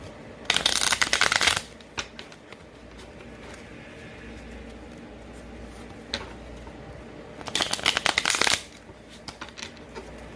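Two loud bursts of tarot card shuffling, one near the start and one near the end, with a faint brief riffle in between over quiet room tone.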